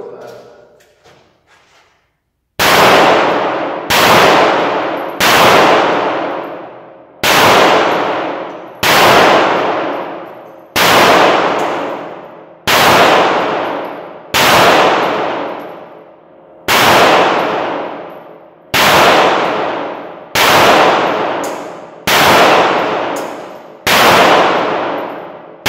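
Loud pistol shots from a TH 380 handgun during a test firing, about eleven sharp reports at irregular intervals of one to two seconds, each ringing off with a short decay, after a brief quiet stretch of handling noise.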